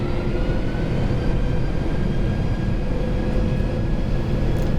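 A National Airlines Boeing 747 cargo jet on its takeoff roll from the cockpit, with a steady, dense engine roar and rumble throughout and no voices.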